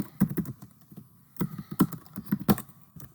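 Fingers type on a computer keyboard close by, with irregular clusters of sharp clicks and short pauses between bursts, and no talking.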